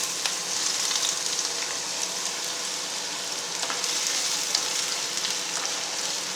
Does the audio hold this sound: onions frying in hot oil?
yes